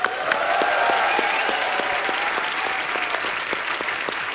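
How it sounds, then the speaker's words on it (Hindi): A studio audience at a comedy talk show breaks into sustained loud applause, dense steady clapping from a large crowd that continues throughout without letting up. "इनके लिए जोरदार तालियां हो जाए"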